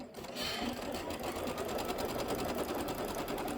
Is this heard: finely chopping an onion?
no